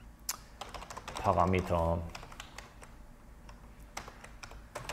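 Someone types on a computer keyboard, a scattered run of close, light clicks that continues under a brief spoken word.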